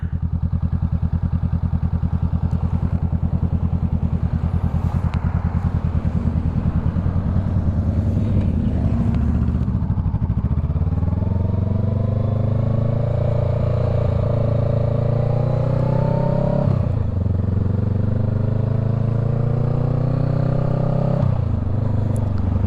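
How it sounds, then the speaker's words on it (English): Traffic at a busy intersection passes close to an idling Honda Rebel 500, engines rumbling and revving in rising sweeps as vehicles pull away, with a steady mechanical clatter running underneath. "A lot of traffic, actually the most traffic I've ever seen at that intersection ever"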